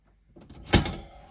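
A removable camper cabinet door slides back onto its hinges, giving a soft scrape and then a single muffled thunk at close range before fading out.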